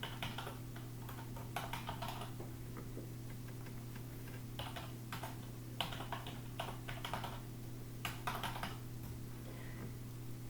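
Typing on a computer keyboard: soft, quick keystrokes come in irregular bursts and pauses over a steady electrical hum, with no speech.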